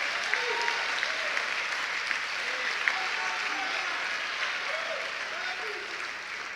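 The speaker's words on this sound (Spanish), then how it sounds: "¿Aplaude o no aplauda?" A church audience applauds during a Spanish-language sermon, steady moderate clapping running throughout at some distance.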